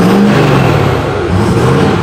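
A Ford F-250 pickup engine runs steadily through its newly fitted exhaust, giving a loud, continuous low rumble with a brief deeper swell at the start and no voices.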